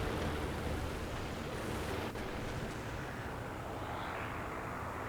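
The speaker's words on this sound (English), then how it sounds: "It's a friendly plane." A friendly propeller plane in War Thunder passes overhead as a steady, broad engine roar, fairly loud and continuous, with a brief crack partway through.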